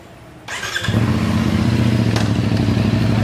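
A 2023 CF Moto NK 450 motorcycle starts up nearby and settles into a loud, steady idle with a throbbing low rumble and light mechanical clatter.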